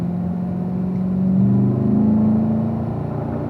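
A race car on a track accelerating out of a corner after an elevation dip, a loud steady engine drone whose pitch climbs and swells in the middle, heard close from onboard.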